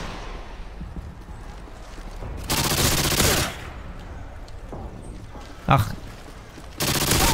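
Rapid automatic gunfire from a fast-firing weapon in the video game Modern Warfare 2 comes in two loud, sustained bursts over steady background game noise, with a short spoken exclamation in between.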